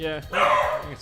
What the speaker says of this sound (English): oh god, that's my dog.